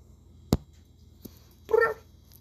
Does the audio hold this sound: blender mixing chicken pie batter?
no